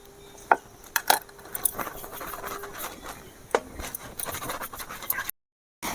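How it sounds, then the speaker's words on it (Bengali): A knife cuts momo dough into small balls for steamed momos, giving a few quiet, sharp scraping taps and clicks on a board, spaced unevenly against a soft background. "এভাবে আমি সমস্ত লেচি কেটে নেব।"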